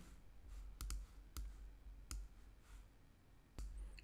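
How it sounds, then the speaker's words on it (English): Sharp, isolated mouse clicks land on a download button at irregular intervals, some in quick pairs, close and clear over quiet room noise. "I cannot click download button."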